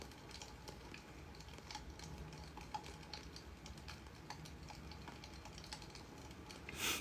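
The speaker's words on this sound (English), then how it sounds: "What is the typing sound?" Soft, steady clicking of keys on a computer keyboard, continuous and close, with a low crackly background texture throughout.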